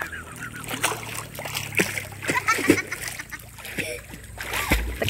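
People splash in water while swimming, with repeated close splashes and sloshing, under loud voices talking and calling out throughout.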